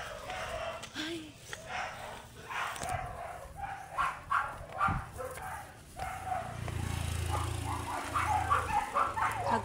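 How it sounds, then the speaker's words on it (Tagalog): Several dogs bark in an agitated, overlapping uproar on a hillside street in Baguio, with a rooster crowing and chickens clucking in the mix and a steady outdoor rumble underneath. "Nagkagulo po ang mga aso kasi may vaccine ang mga aso dito."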